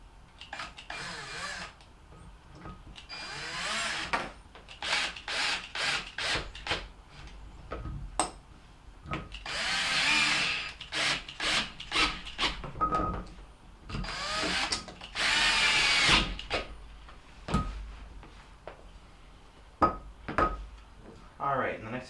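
Cordless power drill driving screws to reattach the arms onto a new condenser fan motor from a GE refrigerator, in repeated whirring bursts of varying length with clicks and handling noises in between, close by.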